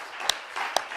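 A church congregation at a Friday evening worship service claps briefly, soft diffuse applause with two sharper close hand claps standing out.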